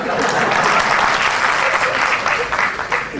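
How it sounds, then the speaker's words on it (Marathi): A crowd at a Marathi public lecture on reservation breaks into loud, dense applause, many hands clapping close and continuously for about three seconds, with faint voices mixed underneath. "टाळ्या नका वाजू, खरंच मारायला तर सुरुवात करा."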